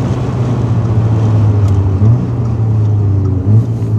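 A tuned stage 2 rally car engine drones steadily at close range, with brief surges in the note around two and three and a half seconds suggesting gear changes, accompanied by a constant wind and road rush.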